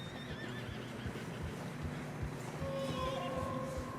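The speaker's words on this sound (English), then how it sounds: "Horses are getting tired." A horse neighs in Red Dead Redemption 2 while riding through fresh snow, a wavering whinny rising over steady hoof clip-clops and low ambient rumble, followed by a long tonal squeal near the end.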